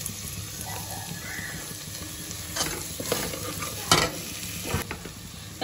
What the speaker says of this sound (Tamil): வெங்காயத்தை போட்டு வதக்கலாங்க.